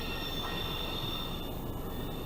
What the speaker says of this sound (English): Great, now the train's gonna stop.